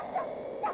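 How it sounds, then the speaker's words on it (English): Dog barking sound effects set into a Wario Land 4 Pizza Tower mod song, two short yelping barks about half a second apart over a continuous musical bed. "A little bit of a rhythm to dog barking"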